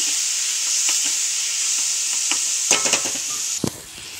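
Sorrel leaf curry (chukka kura) being stirred in a pan, a steady sizzling hiss running throughout with soft scraping strokes near the end, close and moderately loud, no talking.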